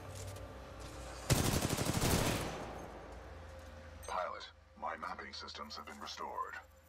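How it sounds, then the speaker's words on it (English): Gunfire in the video game Titanfall 2: a loud burst of rapid automatic shots lasting about a second, followed by fainter game sounds and a voice over the radio. "Wait, where did that gunshot come from?"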